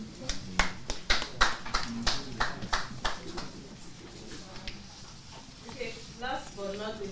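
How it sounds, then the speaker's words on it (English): Scattered applause at a live press conference and inauguration event, a burst of claps in the first few seconds that thins out, with speech and crowd murmur running underneath. "Let's give it a round of applause"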